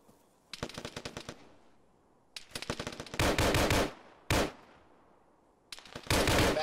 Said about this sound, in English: Back to that guy shooting.